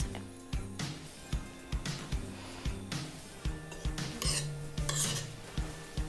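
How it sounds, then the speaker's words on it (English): A spoon scrapes and knocks rhythmically in a bowl as sugar is gently stirred into a breadcrumb-like crumble mixture, with steady repeated strokes up close and no talking. "we're going to add the sugar and incorporate it just gently with a spoon"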